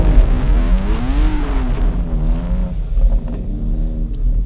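A 2020 BMW X3 M Competition SUV accelerates hard, its engine note rising and swelling in pitch as it pulls, loud and close with a steady low rumble underneath.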